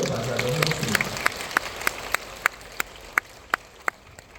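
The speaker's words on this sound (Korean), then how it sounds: "환영의 박수로 맞이하도록 하겠습니다." A church congregation claps to welcome a youth pastor to the front, starting with a brief voice and then settling into a steady, evenly spaced beat of sharp claps.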